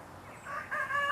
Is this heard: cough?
no